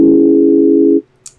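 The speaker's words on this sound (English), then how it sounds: "and that makes it sound like this now." A sustained Omnisphere synth pad, its attack raised, holds one steady, loud, even tone for about a second and then cuts off. A faint click follows, with no voices.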